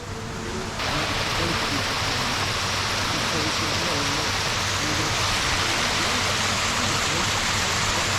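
Cold spring water pours steadily from a pipe outdoors, a loud, continuous rushing splash that carries unbroken from start to finish, close and dominant.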